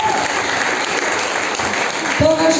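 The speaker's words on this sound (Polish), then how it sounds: "wielkie brawa" Loud, steady applause from the audience at a school choir concert, dense clapping filling the room without letup, with a brief tone and a low thump near the end.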